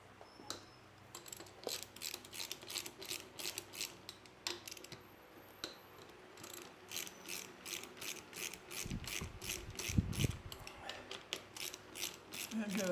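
Ratchet wrench clicking steadily as it undoes 13mm brake caliper bolts on a Royal Enfield Interceptor 650 motorcycle, a close, fairly quiet run of rapid pawl ticks with a brief low thump near the end.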